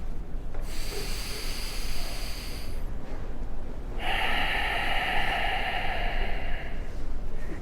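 Slow abdominal breathing during a meditation exercise, close and clearly audible: one long airy exhale, a pause, then a second, stronger breath, with no talk.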